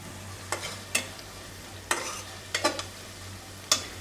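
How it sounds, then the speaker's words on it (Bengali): Red amaranth greens frying in a pan while being stirred, with a soft continuous sizzle broken by several sharp scraping stirs spaced irregularly, close and moderately quiet. "এদিকে লাল শাক ভাজি হচ্ছে।"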